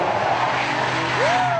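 A car's tires squeal in a short skid over a steady engine roar, the screech rising sharply near the end.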